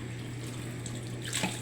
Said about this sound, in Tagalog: Lagyan natin konting tubig kapag